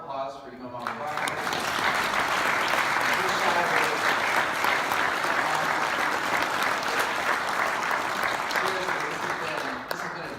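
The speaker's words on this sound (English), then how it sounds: "Can we just do one more applause for Imam Abubakar?" Sustained audience applause at an interfaith panel on the Tabernacle of Moses, dense and steady clapping from a large crowd for about ten seconds, swelling slightly before tapering near the end.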